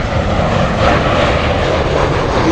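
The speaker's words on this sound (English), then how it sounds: "Loud plane." A loud airplane passes at LAX, Los Angeles International Airport, with a steady, close engine roar that fills the whole stretch and has no other sounds over it.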